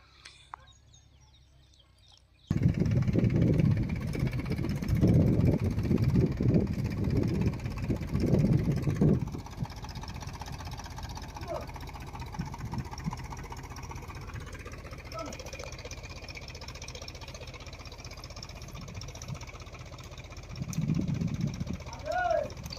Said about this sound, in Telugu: ఇప్పుడు ఆ ట్రాక్టర్తోని బావిలో ఉన్న మోటార్ని అయితే మెల్లగా గుంజాలి